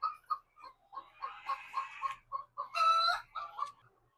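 Chickens on a poultry farm clucking and squawking in a busy run of short, close calls that rise into a louder burst of crowing-like cries near the end, with no talk.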